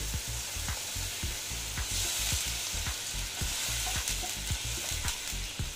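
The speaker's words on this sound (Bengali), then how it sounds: "আমি এখানে নারকেলের দুধ দিয়ে দিচ্ছি।" Egg curry frying in a pan with coconut milk poured in, a steady loud sizzle broken by regular clicking stirs of a spoon against the pan, with no talking.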